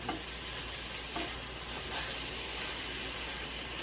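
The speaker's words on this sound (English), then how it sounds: "So let's give this a stir." Turkey sizzles steadily in a pan as it is stirred during holiday meal prep, a close continuous frying hiss with soft scraping strokes and no talking.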